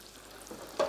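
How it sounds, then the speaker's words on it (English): Pizza dough pieces deep-fry in hot oil, sizzling and crackling steadily as they puff up, with a brief louder burst of bubbling near the end. "So as they're frying, they're puffing up, and puffing up quite dramatically."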